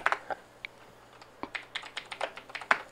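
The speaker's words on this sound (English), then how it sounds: "I forgot this is the keyboard with a stuck E key" Typing on a computer keyboard with a stuck E key: a run of sharp, uneven key clicks and taps spread across three seconds, close and fairly quiet, with no voices.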